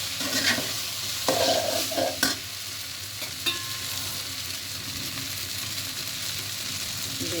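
Onion mixture is stirred and scraped in a pan over a soft sizzle, with several sharp scraping strokes in the first few seconds and then a steadier, quieter frying hiss, close and without speech.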